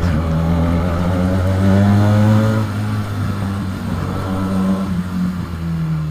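A Benelli TNT 300 motorcycle fitted with an IXIL exhaust revs loudly up close, the engine note climbing, holding, dropping back and rising again in several throttle blips.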